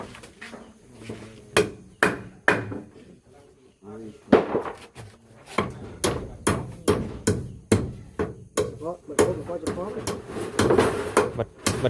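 Wood is pounded and hammered outdoors: a series of sharp, loud knocks in uneven bursts, close by, with people talking between and over the blows.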